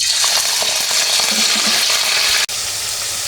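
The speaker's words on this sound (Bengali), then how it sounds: "হালকা একটু লবণ আর একটু হলুদ দিয়ে আমি চিংড়িটাকে ভেজে নেব" Shrimp fries loudly in hot oil seasoned with salt and turmeric, giving a dense, close, continuous sizzle with a brief break near the end.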